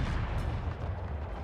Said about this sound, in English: Let's see the cannons.